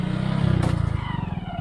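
A motorcycle engine rumbles close by in a steady, pulsing drone as it rides along a muddy road, with no talking heard.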